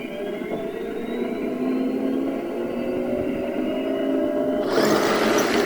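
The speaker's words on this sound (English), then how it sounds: "Diesel's probably my favourite." A Heng Long RC tank's speaker plays its diesel engine sound effect, a steady, moderately quiet droning idle with a sharp hiss-like burst near the end.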